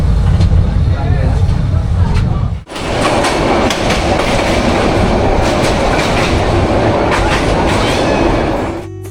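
A Dhaka to Cox's Bazar train runs along, heard from inside a carriage as a loud continuous rumble with rhythmic clickety-clack of wheels on rail joints and brief rattles, with people talking faintly under the noise.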